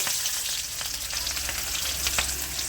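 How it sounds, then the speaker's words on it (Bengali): Chopped onions fry in mustard oil, giving a steady, close sizzle with faint stirring clicks and no talking. "পেঁয়াজ কুচি দিয়ে দেবে"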